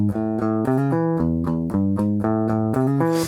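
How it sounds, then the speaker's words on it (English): Guitar playing a riff with 16th-note hammer-ons, a steady bright rhythmic pattern of repeated plucked notes, loud and close with no talking. "If you want to do it with the 16th note hammer on,"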